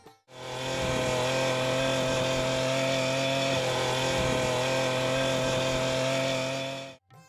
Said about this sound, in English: This man rubs the floor of his cowshed with a metal wire brush attached to the weeder.